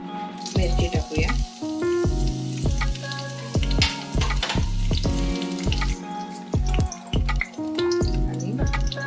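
Chili dropping into hot ghee in a pan, giving a loud, steady frying hiss with crackles and sputters that keeps going the whole time.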